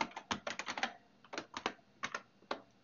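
Keys clatter on a computer keyboard in quick bursts of close, crisp taps, a rapid flurry at first and then a few shorter clusters separated by brief pauses, with no voices.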